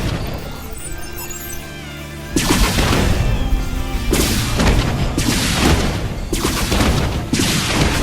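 Banshee aircraft fire on Marines during a StarCraft II match, giving dense, loud volleys of explosive booms and crackling blasts that come in heavy pulses one after another, after a short humming lead-in.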